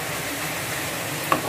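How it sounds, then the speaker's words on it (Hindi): Coconut and jaggery cooking in a pan as they are stirred: a steady, close sizzling hiss with soft scraping, ending in a short metallic clink of the spoon on the pan. "इसको चलाते रहें और सारे नारियल के साथ अच्छे से इस गुड़ को मिलाते रहें"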